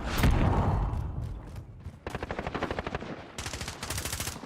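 Sentry gun in Modern Warfare firing rapid, steady automatic bursts after a loud opening blast, the rattling shots fairly close and continuous, pausing briefly before another sustained burst.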